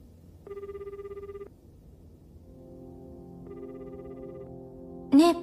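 A telephone rings in two separated electronic tones over a low background hum, followed by a brief louder burst at the end.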